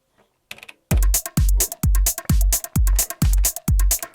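A programmed drum pattern accompanies a Minilogue XD synth, with punchy kicks and crisp hits in a brisk, steady rhythm, loud and close after a brief quiet start, with no talking.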